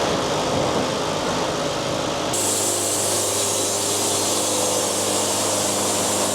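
Sawmill running through a sycamore log, a loud continuous broadband roar whose tone shifts partway through as the blade engages, steady to the end.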